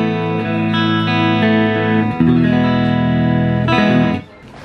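A sustained electric guitar chord rings out through a Zoom G2 Four's amp modeling into a Roland JC-120 amp, a second chord swells in, then both cut off sharply, leaving faint hum.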